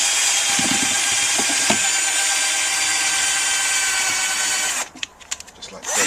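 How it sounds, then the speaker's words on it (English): A power drill fitted with a paint mixer attachment whirs steadily with a high, grinding hum as it stirs grain, then cuts out near the end, leaving brief clattering and a short burst of speech. "just mix it up with a power drill with a paint mixer attachment stuck on it"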